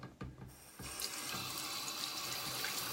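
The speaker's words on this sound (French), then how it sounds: "Je viens rincer mon pinceau" Tap water running into a sink while a makeup brush is rinsed, a steady close splashing stream that starts abruptly and continues without talk.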